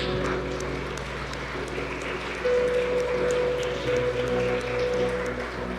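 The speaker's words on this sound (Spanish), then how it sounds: "Un aplauso para el que nos acompaña en eso" A church congregation applauds during a service, a steady broadband patter of many hands sustained throughout, with a held musical tone rising in over the second half.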